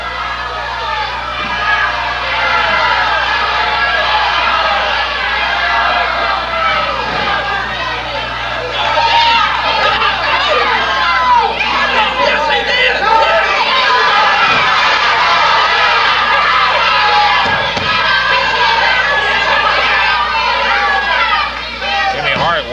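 Crowd at a 1979 Memphis wrestling match yelling and hollering at the referee, a dense, continuous roar of shouting voices close at hand for over twenty seconds, with a commentator talking over it.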